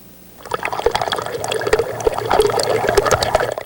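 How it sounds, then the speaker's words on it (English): Water leaking from a broken pipeline above the Serrano area of El Dorado Hills, a steady close trickling and splashing flow that keeps running throughout with no talk. "A trickle of water is still leaking from a broken pipeline above the Serrano area of El Dorado Hills"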